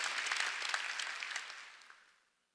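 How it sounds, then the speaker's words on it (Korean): A church congregation claps during a Sunday worship service, a dense burst of many hands that rises quickly and then tapers off and fades out within a couple of seconds. "박수 치라."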